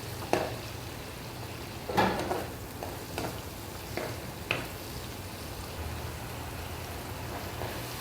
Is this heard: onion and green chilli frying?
yes